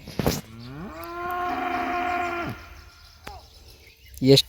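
An ox in a field where ragi is being sown lets out one long, close, drawn-out moo lasting about two seconds. Brief clicks and a short human voice sound at either end over quiet rural background.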